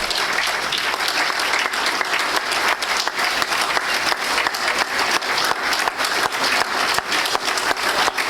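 An audience applauds at a Lions Club officer installation, sustained loud clapping from a crowd with no pauses across the whole stretch.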